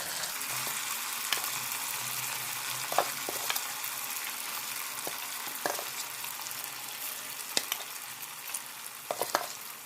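Cauliflower pieces for Gobi Manchurian deep-frying in hot oil, a steady close sizzle with scattered sharp pops and crackles, no talking.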